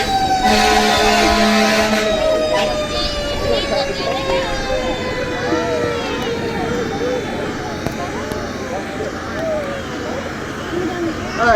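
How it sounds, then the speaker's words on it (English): A fire truck siren wails and winds down at a mock car crash drill, loud and close at first, then the engine rumble and a fading, wavering siren carry on with people talking nearby. "Fire truck's moving"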